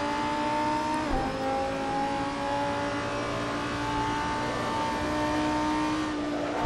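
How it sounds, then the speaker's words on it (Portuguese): Lamborghini Huracan GT3 race car engine at Vallelunga Classic in Assetto Corsa, a steady loud in-car drone that holds high revs, dips briefly with a shift, then climbs again. "Estou jogando com a Lamborghini Huracan GT3."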